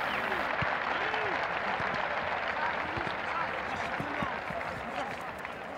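A stadium crowd of Verona fans gives Andrea Mandorlini's team a warm, sustained wash of applause, with a voice speaking over the clapping throughout.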